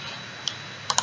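Typing on a computer keyboard: three crisp, close keystrokes, one alone and then a quick pair at the end, over a steady low room hum.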